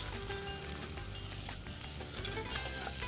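Fish frying in a pan of cooking grease, a steady dense sizzle and crackle running close and continuous, with no talking over it.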